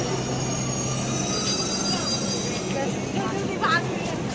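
A metro train runs with a steady rolling rumble and faint high wheel squeals on the rails, a continuous moderately loud ride with occasional brief clatters.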